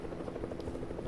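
A helicopter in the video game Fortnite, a steady low rotor thrum with a buzzing pulse, close and even throughout the short stretch with no speech over it.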